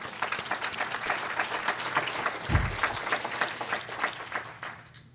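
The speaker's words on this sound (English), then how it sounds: "I applaud you" Sustained applause from an audience at an ecological land management forum, dense steady clapping filling the room with one brief low thump midway, fading slightly toward the end.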